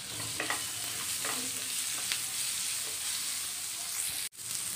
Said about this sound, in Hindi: इसमें साथ में हम टमाटर डाल देंगे, और इन सबको हम अच्छे से मिक्स कर लेंगे।